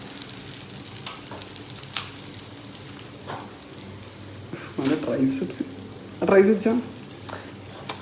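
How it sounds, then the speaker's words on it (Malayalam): Apple pieces fry in a spiced masala in a pan, with short bursts of sizzling and stirring that rise and fade under a person talking nearby. "ഇത് കഴിഞ്ഞിട്ട് ഈ മസാലയിൽ ആപ്പിൾ പൊരിക്കുന്നതാണ്"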